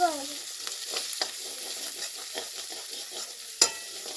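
Chopped tomato goes into a pan of sizzling chicken curry with broccoli, a steady frying hiss with soft stirring scrapes and a sharp clatter near the end, no talk heard.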